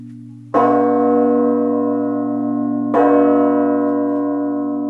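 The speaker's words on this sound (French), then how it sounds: "on a une résonance exceptionnelle, alors que la cloche, elle est encore recouverte de terre, ce qui nuit à la résonance, ce qui nuit au son" A newly cast Notre-Dame church bell, still coated in foundry earth, is struck twice at the foundry, each loud, close strike ringing out in a rich, long-sustaining hum with no talking.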